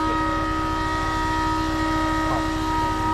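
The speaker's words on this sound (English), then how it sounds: "the noise you can hear is the pump" A truck's fuel pump runs with a steady, even mechanical hum and drone that holds constant throughout, fairly loud and close, with no speech.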